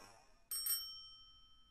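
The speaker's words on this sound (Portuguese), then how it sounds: "Com essa campainha, a Madre Superiora me chama na sala dela" A small bell rung to summon someone to the Mother Superior's office, a single bright ding-ding that rings out and fades in an otherwise quiet room.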